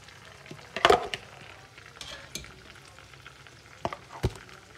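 Onions fry in a pan with a low sizzle, interrupted by a few sharp scrapes and clatters of a utensil against the pan, close up with no talking.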